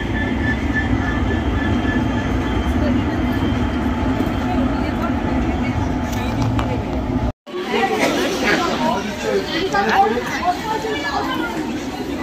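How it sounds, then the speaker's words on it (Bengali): A passenger train at New Jalpaiguri railway station rumbles steadily with rolling wheel clatter under loud platform crowd chatter, followed after a brief cut by busier station noise and voices. "তো ফাইনালি আমরা নিউ জলপাইগুড়ি স্টেশনে পৌঁছে গেছি। একদম টাইমে ট্রেন চলে এসেছে।"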